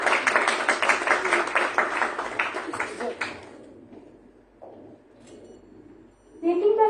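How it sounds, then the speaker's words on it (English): An audience applauds at an international academic conference, a dense burst of clapping that fades out within a few seconds, leaving a quiet room before a voice begins. "Let's have a huge round of applause for Mr. Shubha."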